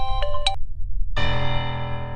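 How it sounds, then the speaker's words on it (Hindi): An electronic phone ringtone plays close by: a couple of short chimes, a brief pause, then a sustained bright melodic tone. "तो माहिर जी, मैं कह रही थी कि माँ का फोन"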